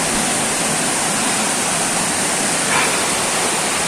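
Steady broadband rush of a river flowing while a person walks over dry rocks beside it in General Nakar, Quezon, continuous and fairly loud with no pauses or voices.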